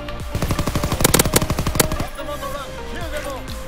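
Light machine gun in Call of Duty WWII firing a rapid sustained burst of loud, close shots for about two seconds, then fading into quieter game noise with a voice speaking.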